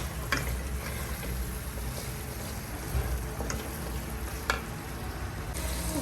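Douara tripe frying with spices in a pot, a steady close sizzle and crackle with occasional sharper pops and stirring scrapes.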